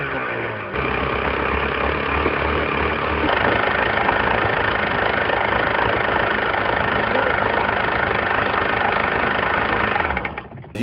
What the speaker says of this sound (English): It's got a rattling, knocking noise in it that's pretty pronounced.